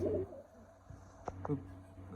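Pigeons coo softly in a home loft cage, with a couple of short close coos standing out over a low steady background hum.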